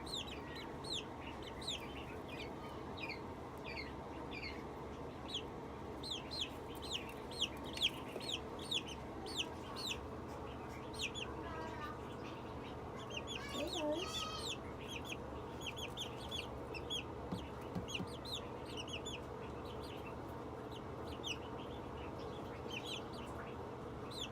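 Ameraucana chickens cluck softly and repeatedly nearby over a steady background hum, with occasional duck quacks mixed in.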